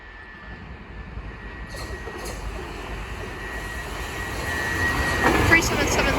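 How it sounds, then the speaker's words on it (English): A Southern class 377 electric multiple unit approaches at Sydenham on the Brighton Main Line, its rumble building gradually from faint to fairly loud, with a steady tonal whine and a brief high squeal near the end. "The next train to pass by is going to be a Southern lot of class 377s"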